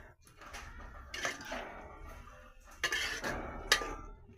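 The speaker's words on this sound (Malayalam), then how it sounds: "ഇനി നന്നാക്കി ഇളക്കി കൊടുക്കുക" A spoon stirs a pot of chicken curry, about one kilo of chicken, with a few separate bursts of scraping and clinking against the metal pot amid quieter stretches.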